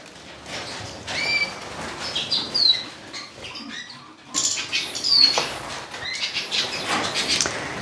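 Pet birds in an indoor bird room flutter and flap their wings in bursts, with scattered chirps and tweets over a steady busy background of rustling activity.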